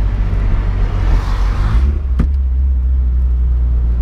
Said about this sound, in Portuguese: O carro não quer acelerar, mano.